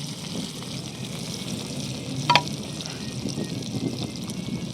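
Chopped onion and garlic frying in hot oil in a home kitchen for jhunka, a steady soft sizzle throughout with one brief clink near the middle.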